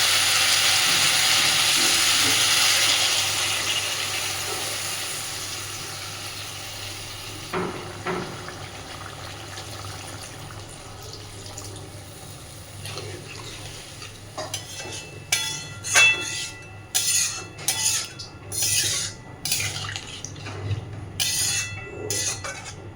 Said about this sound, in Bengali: মাছ আলু সব কিছুকে খুব ভালোভাবে মশলার সাথে কষিয়ে নিয়েছি। এবার আমি জল দিয়ে দিচ্ছি।